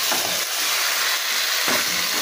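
Chicken fries with spices in a hot pan, giving a loud, even, hissing sizzle close up that runs without a break and with no talking.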